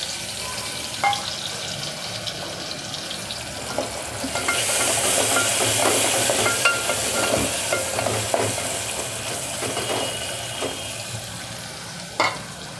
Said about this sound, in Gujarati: એક કાંદો અને એક ટમેટું મેં આવી રીતે નાના નાના ટુકડા કરી લીધા છે એ નાખી દઈશું